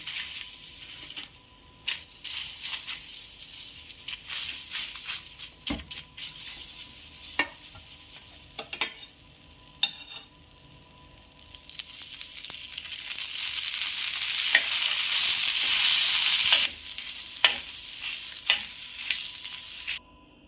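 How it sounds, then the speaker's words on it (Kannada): Dry red chillies frying in oil in a pan for red chutney: a steady sizzle with stirring scrapes and clicks throughout, growing louder and denser partway through, close up with no talking. "ಕೆಂಪು ಚಟ್ನಿ ಮಾಡೋಕ್ಕೆ ಇವಾಗ ಒಣ ಮೆಣಸಿನ್ಕಾಯಿ ಎಣ್ಣೆ ಹಾಕಿ ಹುರಿತಾ ಇದ್ದೀನಿ."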